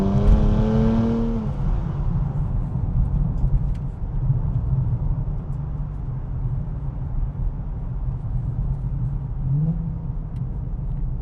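A Nissan Z sports car roars past at speed, its engine note loud and close at first, then falling in pitch and fading into a low rumble as it pulls away.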